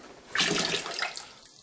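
Liquid poured into a vessel while making mead at home: a short, close splashing gush lasting about a second before it trails off.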